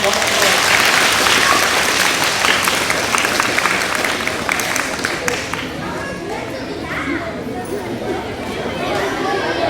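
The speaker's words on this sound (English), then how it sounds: "Give her a round of applause, guys" Loud applause from a crowd of schoolchildren at an elementary school Red Ribbon rally, dense clapping for several seconds that thins out and gives way to chatter and young voices.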